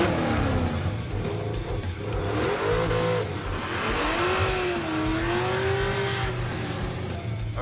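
A muscle truck accelerates hard down a drag strip, its engine roaring loud and steady with rising and falling pitch as it pulls through the gears over a constant wash of noise.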